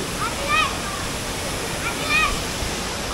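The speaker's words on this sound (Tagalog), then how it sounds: "Dito po kami ngayon sa Bulawan Falls." Bulawan Falls in Aurora Province, a waterfall roaring as a loud, steady broadband rush close by, with a few brief bird chirps over the water noise.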